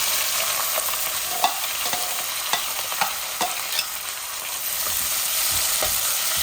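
A large onion with ginger and garlic fries in a pan for a chicken dish, giving a constant loud sizzle broken by irregular scraping clicks of a spatula stirring.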